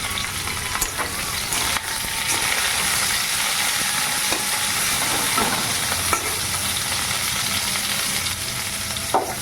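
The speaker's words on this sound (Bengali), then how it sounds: "পটলটা দিয়ে একটু ভেজে নিয়ে তারপরে মশলা দেবো।" Pointed gourd (potol) fries in hot oil with browned ginger in a pan. A loud, dense, steady sizzle fills the whole stretch, broken only by occasional stirring clicks close by.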